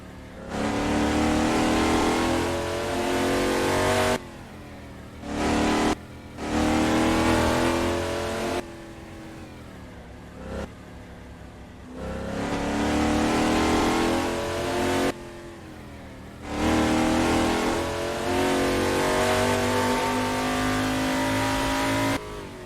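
Engine of a 1970 Chevrolet Chevelle SS in Assetto Corsa, heard from inside the car: loud, sustained V8-style revving that climbs through gears, with brief drops between long pulls, close and alone without speech.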